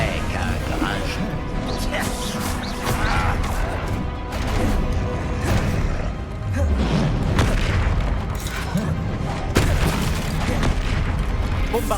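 Bombarda and Confringo spell explosions in the video game Hogwarts Legacy: a dense, loud run of booms, crashes and impacts that barely lets up, layered with busy game sounds and what seem to be voices.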